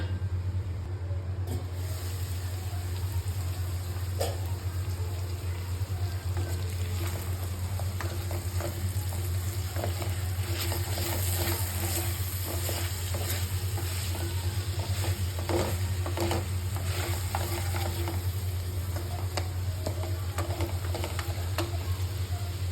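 Mutton bhuna with chopped onions sizzling and frying in a pan, a continuous hiss under a low steady hum with scattered sharp crackles and spatters, close and moderately loud.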